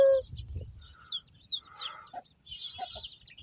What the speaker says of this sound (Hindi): तो ये मुर्गी है